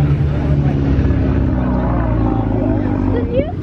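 A 1997-98 Toyota Supra idles while warming up, a steady low engine rumble close by with a faint rising whine near the end, people chattering in the background.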